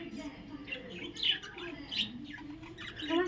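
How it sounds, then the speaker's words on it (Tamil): Pet lovebirds chirping nearby, bright short tweets and squeaks scattered over a low background hum. "தனிஷ்காவுக்கு ரொம்பவே பிடிக்கும் லவ் பேர்ட்ஸ் எல்லாமே"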